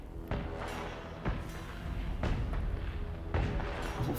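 Deep, muffled fireworks-like booms from the video game Planet Coaster 2: four thudding hits roughly a second apart over a steady rumbling background.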